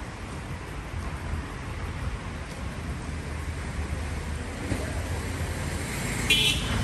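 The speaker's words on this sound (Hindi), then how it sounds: "या गेड़ियाँ चल रही हैं, लड़के गाड़ी में गाने बजा के खूब जा रहे हैं रात के समय" Night road traffic near Jantar Mantar in Delhi, a continuous roadway rumble and hiss of passing cars with a faint horn toot late on, moderately distant and steady with no talk.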